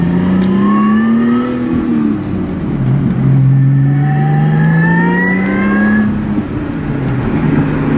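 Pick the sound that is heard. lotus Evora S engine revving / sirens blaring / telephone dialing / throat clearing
lotus Evora S engine revving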